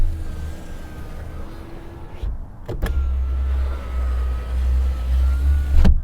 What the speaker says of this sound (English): One of the clear signs that this is a car built down to a price is the noise of the electric windows.